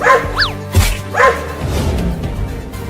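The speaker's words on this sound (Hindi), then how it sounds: "ये दोनों कुत्ते तो यहाँ भी आ गए।" Two dogs bark in a few sharp, close bursts with yips near the start, then give way to a steady low background rumble.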